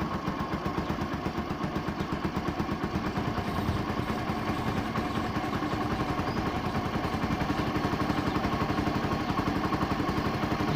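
A Bajaj motorcycle engine runs steadily at raised RPM, a continuous close rapid thrumming putter that holds throughout without pause.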